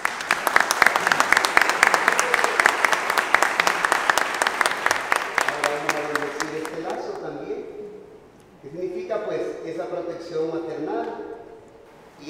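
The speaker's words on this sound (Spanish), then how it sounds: "nosotros nos unimos alegremente aplaudiendo" Loud, sustained applause from a wedding ceremony crowd, fading after several seconds into murmuring voices and a few scattered claps.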